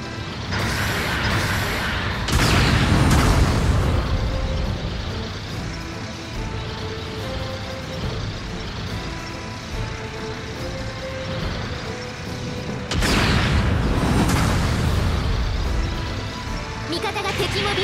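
Support artillery bombardment in the mecha video game Gundam Battle Operation 2, heard as two loud bursts of booming impacts over a continuous din of game sound and a talking voice.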